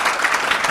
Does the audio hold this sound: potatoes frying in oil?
no